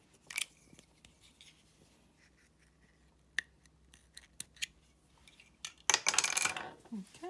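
Scissors snip off the yarn tail on a finished toddler-sized crochet beanie, a few quiet, sharp clicks up close followed by a louder burst of rustling near the end.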